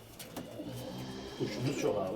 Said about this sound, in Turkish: Abi Emre'de kuş çok.